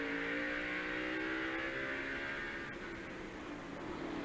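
Onboard engine of Mark Martin's stock car during the 1990 NASCAR Hanes Activewear 500: a sustained high-revving drone with clear tonal harmonics that slide slightly as the revs shift, heard continuously at low level.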